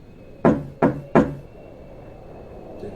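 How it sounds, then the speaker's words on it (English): Three sharp knocks in quick succession on glass, close and distinct, followed by quiet room tone. "I woke up to hear knocking on glass."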